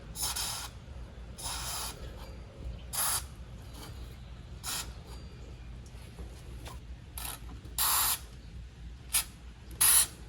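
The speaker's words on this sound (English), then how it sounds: "to give me a much cleaner and direct spray into the housing and connections" White lithium grease sprayed from an aerosol can into a parking brake cable housing and its connections, short hissing bursts of varying length separated by pauses, close and crisp over a faint background.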